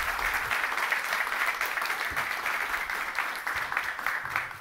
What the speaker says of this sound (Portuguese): Uma salva de palmas para o William